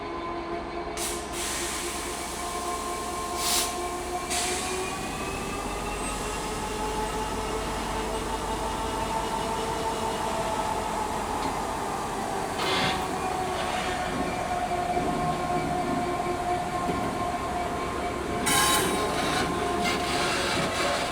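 A Class 66 diesel locomotive in old EWS livery hauls a special heritage freight train toward Didcot Railway Centre, giving a steady close rumble for the whole stretch with faint wheel squeal and no talk.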